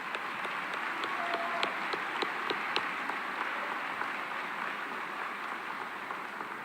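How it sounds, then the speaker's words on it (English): A large crowd at a commencement ceremony claps steadily for several seconds. The applause sounds fairly distant and even, with a few sharper individual claps standing out above the broad wash of clapping. "Let's give them a round of applause."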